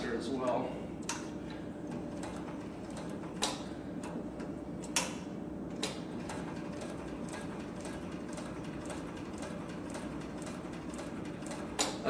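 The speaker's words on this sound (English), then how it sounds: "If I push farther on the pedal, you can see I can go a little bit faster as well" Sewing machine stitching at a pedal-controlled speed, a fast steady mechanical ticking with occasional louder clicks, running under a person's talk.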